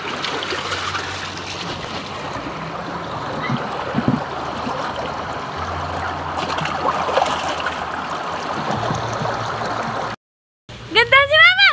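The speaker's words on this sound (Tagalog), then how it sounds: "Yan po yung galing sapa." Creek water flows in a steady close rushing wash beside an irrigation spot. A few brief sharp sounds stand out near the end after a short silence.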